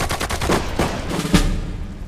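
Rapid bursts of gunfire in the video game Sudden Strike 4 crack in quick succession, dense and loud, with a heavier shot standing out near the end, amid German battle commands.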